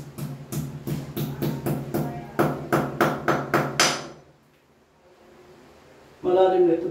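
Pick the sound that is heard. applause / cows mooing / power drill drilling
power drill drilling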